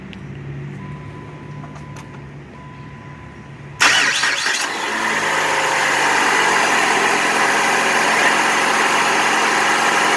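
2006 PT Cruiser with corroded battery cables starting up: a quiet lead-in, a sudden crank and catch, then a steady close engine idle that continues to the end.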